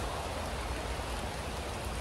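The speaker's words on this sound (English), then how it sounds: "It's raining right now" Steady rain falling outdoors, a continuous dense hiss of drops on surfaces that holds at an even, moderate level throughout, with no voices.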